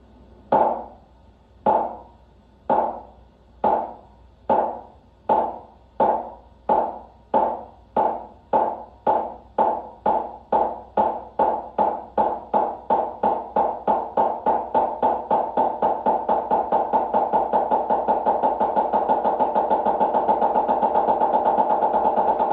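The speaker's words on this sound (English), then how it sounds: "This is the single stroke roll played as a continuous roll." Snare drum single stroke roll played alone, starting as slow, evenly spaced sharp strokes that steadily speed up until they blur into a continuous, loud buzzing roll.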